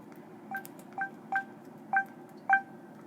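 Five short telephone keypad tones sound in an even, quick rhythm as a five-digit number is entered, clear and close over a low steady hum, with no speech.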